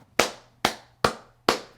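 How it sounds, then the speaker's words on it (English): Four single hand claps, evenly spaced and sharp, ring in a room deadened by sound blankets laid on the floor, each with only a short decaying tail. "Let me clap a few times here"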